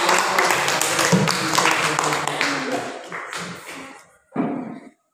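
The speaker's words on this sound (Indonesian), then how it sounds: "Kita beri aplaus kepada kelompok 2" Classroom applause for a student group, a dense patter of many hands clapping for about four seconds, fading toward the end, then a short final burst of claps.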